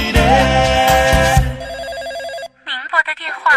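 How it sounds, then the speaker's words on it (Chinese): A telephone rings inside a Taiwanese-language pop song, its warbling electronic ring repeating in steady bursts after a stretch of band music, followed by sung phrases. "我可爱的妹妹，赶紧接电话"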